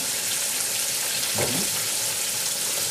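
Steady, dense sizzling and crackling of soft shell crab deep frying in hot grease, continuous and close, with a brief stirring or splashing sound midway.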